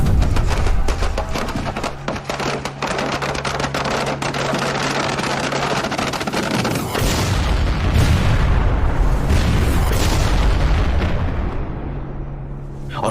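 Explosions tear through the great chariot Nandighosh as it bursts into flames: a dense, sustained roar of rumbling blasts and bursts, loud and continuous throughout with no pauses.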